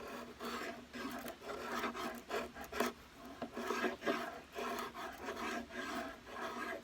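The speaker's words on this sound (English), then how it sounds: "by using your draw knife with the bevel down" A draw knife, bevel down, shaves a hickory self-bow in repeated rasping strokes, each one a soft scraping pass of blade over wood, quiet and close with no talking.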